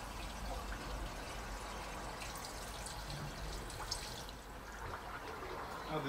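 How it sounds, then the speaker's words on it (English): Water gushes steadily through a blocked sewer drain pipe after tree roots were cleared, a continuous broadband rushing flow that holds at an even level throughout with no pauses. "I'll go and flush it again."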